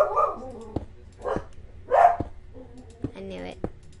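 A dog barks in sharp, separate bursts, loud and close, while people shout and talk over it in an outdoor setting.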